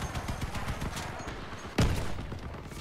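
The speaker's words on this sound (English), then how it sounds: "A lot of incoming fire in that particular direction." Incoming gunfire in the vehicle-combat game Crossout: a steady rattle of rapid shots runs throughout, with a louder, heavier burst near the end.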